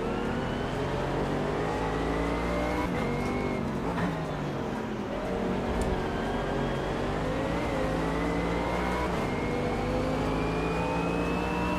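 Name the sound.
car engine driving in VR racing simulator video game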